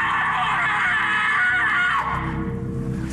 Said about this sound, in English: You said you weren't gonna scream.